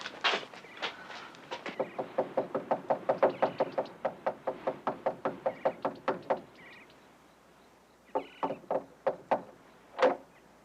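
Rapid series of firm knocks on a door, about two dozen evenly paced raps, then a pause and a few more spaced knocks, close and clear with no talk.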